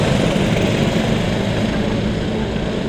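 Karts roaring together at the start of a three-hour endurance race at Salbris, a loud, dense engine drone close by that holds steady throughout.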